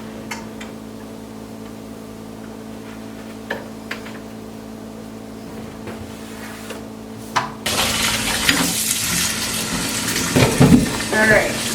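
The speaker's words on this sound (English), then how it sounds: "I rinsed out that greasy water, scrubbed out the sink" After about seven seconds of low, quiet hum, a kitchen sink faucet bursts on and runs strongly to rinse away greasy water and scrub the basin, a close, continuous splashing rush to the end.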